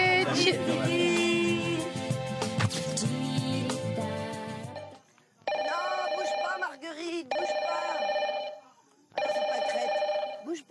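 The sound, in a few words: telephone ringing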